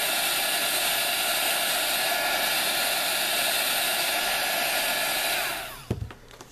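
Heat embossing tool blowing hot air in a steady, loud, close whoosh like a small hair dryer, cutting off near the end with a few handling clicks.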